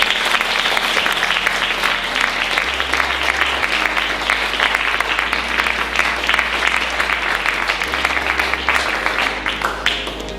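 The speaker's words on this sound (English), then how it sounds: "Please give her a nice round of applause." A theatre audience breaks into a sustained, dense round of applause at a stage performance, steady and loud for about ten seconds over a low musical bed.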